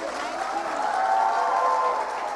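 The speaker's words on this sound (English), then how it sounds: "Big round of applause" Applause from the audience at an award ceremony honouring a woman of impact, a steady dense wash of clapping that holds at an even, fairly loud level throughout.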